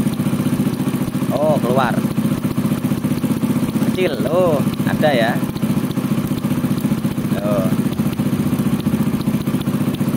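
A Honda Astrea Grand motorcycle engine idles loudly and steadily nearby, its fast even chugging continuing throughout while someone speaks a few short exclamations over it.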